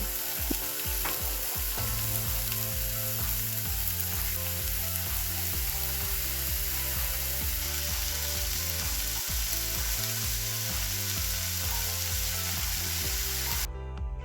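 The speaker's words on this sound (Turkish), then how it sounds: "Köfteleri tavada önlü arkalı güzelce pişiriyorum." Homemade hamburger patties fry in a pan with a steady, close sizzle, while music plays throughout.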